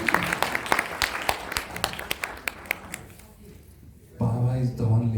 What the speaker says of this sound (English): Clap for her also.